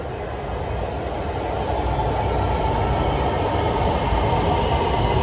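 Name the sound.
train arriving at a station in Lahore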